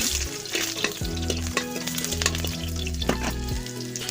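Onions and green chillies sizzle and fry in hot oil in a kadai, a steady close crackle with stirring scrapes and clatter throughout, no voices.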